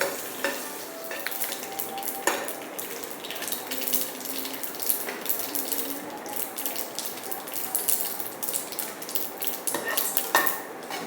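Dried red chillies and curry leaves fry in hot oil, a steady close sizzle throughout with frequent scraping and clinking of a utensil stirring against the pan.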